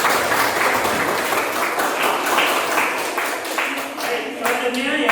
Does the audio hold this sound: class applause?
yes